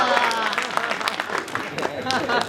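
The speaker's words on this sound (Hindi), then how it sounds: "आप लोग ताली बजाइए, ताली बजाइए।" Audience clapping at a Hindi comic poetry recital (kavi sammelan), a dense, continuous wash of applause from a crowd with voices mixed in throughout.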